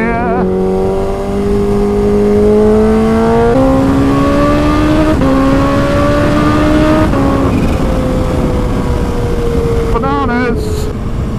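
A tuned 250 hp Kawasaki H2 motorcycle accelerates hard on the road, its engine whine climbing in pitch through several rapid upshifts, loud and close, with rushing wind noise underneath.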